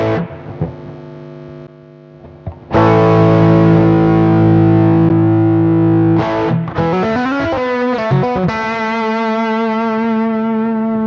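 A distorted electric guitar through an overdrive pedal used as a boost rings out with thick, sustained overdriven chords after a few quiet plucks, loud and saturated with a slight echo tail.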